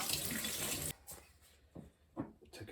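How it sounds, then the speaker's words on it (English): Tap water runs steadily over bike parts to rinse off cleaner, a broad splashing rush for nearly a second that cuts off abruptly, followed by quieter clinks and handling noises. "Rinse off that cleaner."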